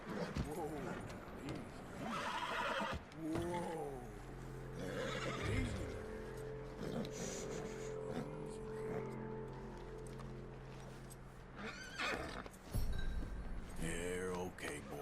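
Horse neighs and whinnies in Red Dead Redemption 2, with clip-clop hooves and game ambience running throughout; a speaking voice occasionally sits over the horse sounds.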